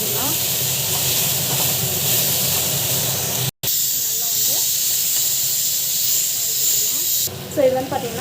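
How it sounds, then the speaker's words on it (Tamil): Okra pieces sautéing in a pan give off a steady hiss and sizzle through the whole stretch, with a brief dropout midway and a few faint voices near the end. "ஸோ நல்லா வந்து வதக்கிட்டுருக்கோம்"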